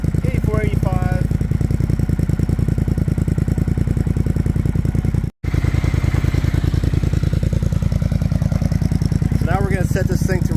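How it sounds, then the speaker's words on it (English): A warmed-up Triumph Speed Twin motorcycle fitted with a Cone Engineering exhaust idles loudly and close by, its steady rapid pulsing thrum running throughout, with a brief dropout partway and faint voices near the start and end. "right now it's a little bit warmed up. It's at idle."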